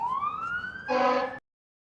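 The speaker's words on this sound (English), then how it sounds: "Hang on, more sirens." A wailing emergency vehicle siren in Toronto rises in pitch, then shifts to a harsher blaring tone before cutting off abruptly; moderately loud, not very distant.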